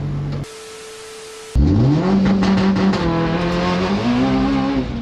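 A Mitsubishi Evo running ethanol boosted with Ignite Red race fuel accelerates hard, its engine note climbing loud and close through rising gears with a brief shift dip, no voices.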